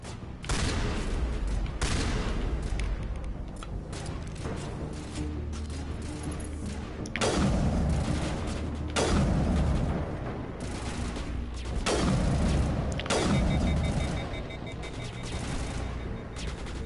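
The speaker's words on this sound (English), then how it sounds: "Fires a rocket." Rocket fire and combat blasts in the video game Mass Effect, several loud booming bursts with long decaying tails, interspersed with rattling gunfire across the scene.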